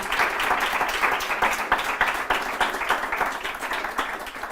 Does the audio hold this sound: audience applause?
yes